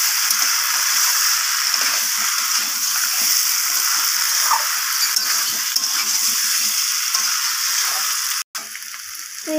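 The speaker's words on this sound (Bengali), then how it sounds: "তো আলুগুলো দেওয়ার পর এইভাবে মশলার সাথে ভালো করে কষিয়ে নিতে হবে" Potatoes that were fried beforehand are stir-fried with spices in a pan, giving a loud, steady sizzle with faint scraping of stirring, broken by a short sharp knock near the end.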